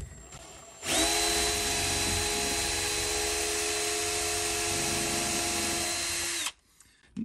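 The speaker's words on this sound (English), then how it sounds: "I'm going to start with a small drill bit and drill a pilot hole right here where all the pins are." A power drill with a small bit drills a pilot hole into a lock's pins, whining steadily at close range for several seconds, a high sustained mechanical tone that starts abruptly and cuts off sharply.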